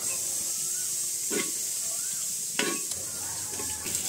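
Garlic, onion and green chili hitting hot oil with cloves and cardamom in a clay pot during Eid cooking: a constant bright sizzling hiss with occasional stirring scrapes and soft clinks, close up.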